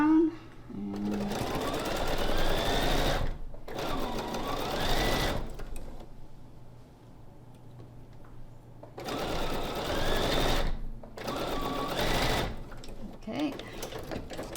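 A sewing machine chain pieces quilt block pieces in bursts of rapid stitching, several runs separated by short pauses, close and loud, with a person talking between the bursts.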